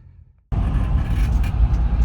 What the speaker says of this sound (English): And a tow truck just went right by me.